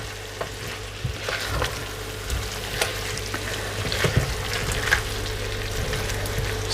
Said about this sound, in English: we're going to throw in our chopped tomatoes and just give that a quick mix